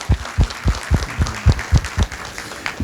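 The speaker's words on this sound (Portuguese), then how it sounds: "Uma salva de palmas então para todos os advogados" Applause for the lawyers at a Brazilian property registry officers' meeting: a handful of loud, evenly spaced claps close by, repeating about every quarter second.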